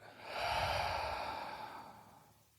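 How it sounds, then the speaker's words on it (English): One long, deep exhale during a guided meditation, soft and close, swelling quickly and then fading gradually as the breath runs out. "let us take 3 deep breaths together."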